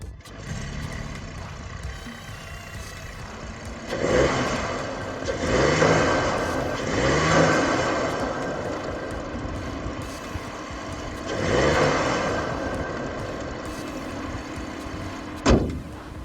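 A steady idling Audi SQ5 diesel engine with a rough, clattering injector tick, swelling briefly in a few louder revs before settling back, ending with a sharp knock.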